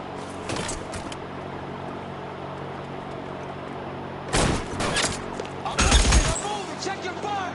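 Bursts of gunfire in L.A. Noire crack out in loud clusters, one short volley early and two heavier rapid volleys later, over a low background rumble.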